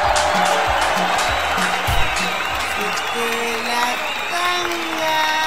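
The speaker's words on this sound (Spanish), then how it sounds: "Quiero que recibamos con un fuerte aplauso" Crowd applause and cheering greet a DJ at a live televised show, steady clapping with a few whoops and a tonal musical sting running underneath throughout.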